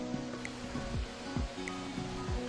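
Rushing water at Jiksopokpo waterfall in the Byeonsan mountains, a steady broadband roar heard alone, with a few low thumps underneath.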